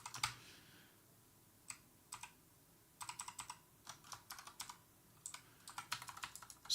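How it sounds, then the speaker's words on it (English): Razer Huntsman computer keyboard being typed on, quick bursts of crisp clicky keystrokes in irregular clusters, close and fairly quiet. "It is Razer Huntsman keyboard, simple keyboard, bro."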